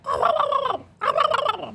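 A person imitates a turkey gobble with the voice, two loud rapid warbling gobbles in succession, close to the microphone with a short pause between them.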